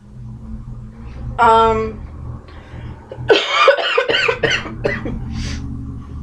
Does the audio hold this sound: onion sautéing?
no